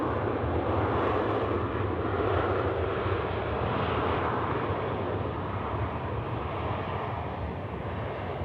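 A Boeing 747-400 airliner at Sydney Airport at night gives a loud, steady jet-engine roar that fills the whole clip without let-up and carries no speech.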